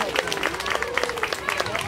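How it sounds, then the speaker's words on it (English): Dense applause from a circus audience in Sun Prairie, steady clapping throughout with a lively crowd murmur underneath. "Give her a round of applause"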